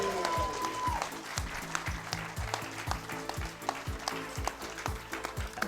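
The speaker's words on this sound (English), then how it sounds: "Let's have a big cheer from you to yourselves." A live podcast audience at the Electric claps and cheers together, a dense, sustained burst of applause with sharp hand claps filling the room and no speech.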